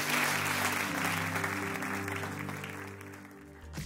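A church congregation applauds together, a dense steady wash of clapping that fills the room and slowly tapers off, close and fairly loud throughout.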